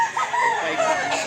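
A rooster crows loudly and close in one sustained call, set among chickens at a Mantalungon, Cebu poultry sale.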